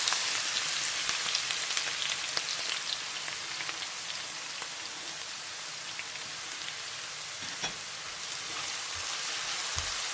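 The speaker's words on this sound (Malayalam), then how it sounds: "ഇനി നമുക്കതിലോട്ട് നമ്മളെടുത്ത് വെച്ചേക്കുന്ന ഇഞ്ചിയും വെളുത്തുള്ളിയും പച്ചമുളകും കൂടി ഇട്ട് കൊടുക്കാം" Ginger, garlic and green chilies frying in a masala, making a steady, even sizzling hiss, like rain, that stays constant throughout with no talking.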